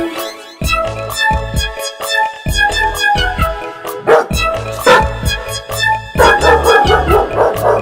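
Dog barks set into a Hindi children's rhyme song, with sung vocals and bright music running throughout and the barks falling in time with the tune.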